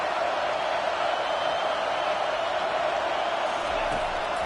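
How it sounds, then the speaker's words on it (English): A football stadium crowd rising up late in a game, a broad, steady roar of many voices filling the whole stretch without letup, distant and dense. "This crowd rising up, sensing that its defense needs some help."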